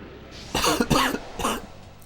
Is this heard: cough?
yes